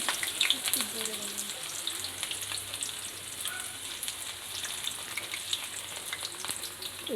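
Onion and garlic hitting hot mustard oil in a pan, a close, even crackling sizzle that runs throughout with faint clinks and a brief voice murmur early on.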